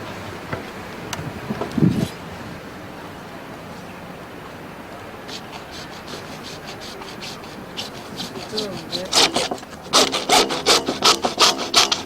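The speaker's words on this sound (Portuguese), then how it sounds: "Com o arco de serra, você vai serrar os tubos no tamanho certo." A hacksaw cutting pipes to size for building work, quiet rubbing at first, then a run of quick back-and-forth rasping strokes close up toward the end, with no talking.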